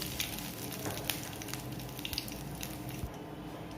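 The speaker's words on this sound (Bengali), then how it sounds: "এবার কড়াইতে তেল দিয়েছি, জিরে শুকনো লঙ্কা ফোড়ন দেবো" Cumin seeds and dried red chillies tempering in hot oil in a kadai, producing a steady, dense sizzle and crackle with scattered pops throughout, close but moderate in level, no talking.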